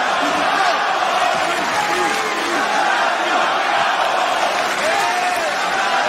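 Partisan arena crowd at a UFC fight roaring for Cowboy Cerrone, a continuous loud dense wall of cheering and shouts under a commentator's voice.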